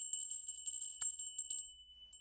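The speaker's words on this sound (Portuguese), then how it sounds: "Pega um sininho desse aqui" A small hand bell rung by a Zen teacher jingles in several quick, bright shakes, its clear high tone ringing on faintly between strikes.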